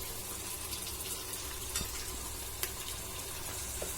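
Ginger garlic paste and cumin powder frying in a beef kofta curry, giving a steady, close sizzle with a few soft stirring scrapes and no talking.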